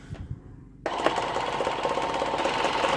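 A steady mechanical buzzing hum from a Waterhythm WF-700 water flosser pump starts abruptly after a brief quiet moment and keeps running loudly and evenly.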